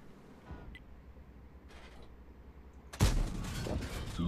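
A couple of distant booms early on, then a loud heavy tank cannon blast near the end followed by rumbling game noise, in World of Tanks with a Chrysler K tank.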